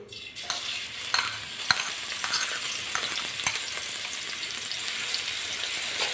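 Mint and coriander chutney fries in hot oil with a dense, steady sizzle, punctuated by sharp clicks of a spoon stirring the pan, close and continuous throughout.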